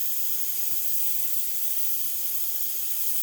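A Grex XGi airbrush fitted with a fan cap sprays paint in an elliptical pattern, giving a steady, close, unbroken hiss with no talking.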